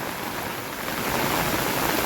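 Heavy rain keeps pouring over a flooded residential society beside an overflowing canal, a dense, steady hiss that holds close and loud throughout with no voices.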